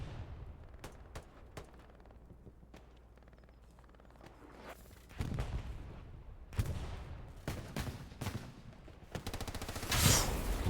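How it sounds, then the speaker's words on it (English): In Hell Let Loose, a rocket slams into a Luchs light tank in the Hurtgen Forest. It lands as a sharp blast amid rattling gunfire, with several loud impacts cracking through the near, steady shooting. "Rocket comes in."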